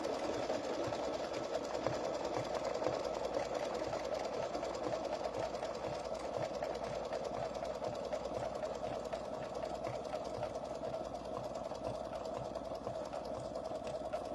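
A sewing machine hums steadily as it stitches decorative stitches on a Chucky pumpkin potholder, a continuous fast mechanical whir with faint rapid ticking, moderately quiet and unbroken throughout.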